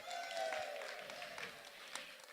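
An audience at a Saturday morning main session cheers and applauds for volunteers called up front, a sustained burst of clapping from a moderately distant crowd that gradually thins, with faint voices mixed in.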